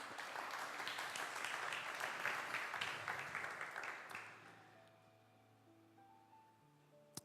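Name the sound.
church congregation applauding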